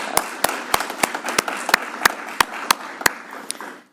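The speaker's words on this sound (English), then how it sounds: "Give them all a big round of applause." A press-conference audience applauds the Alberta premier's announcement of a pipeline stake sale to Indigenous groups, with crisp, evenly spaced claps standing out over a steady wash of clapping for about four seconds.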